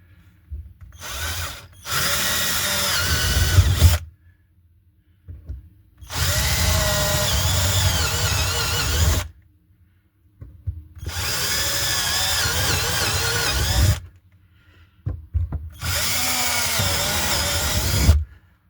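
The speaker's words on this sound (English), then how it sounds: "so we just need to drill some more." A power drill whirs in four bursts of a few seconds each, separated by short silences, with grinding as the bit works through the plastic of an RV toilet.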